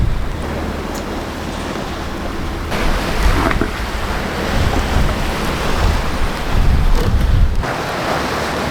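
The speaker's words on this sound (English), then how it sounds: "Waves are picking up again." Ocean waves wash steadily around a sailboat crossing the Atlantic at night, a continuous broadband surge with wind noise on the microphone, swelling louder in several pulses midway and near the end.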